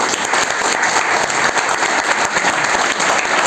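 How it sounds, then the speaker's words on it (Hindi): A business-meeting audience claps loudly and steadily for a guest, a dense, even wash of many hands close to the listener with no voices over it. "एक बार उनके लिए जोरदार तालियां हो जाए।"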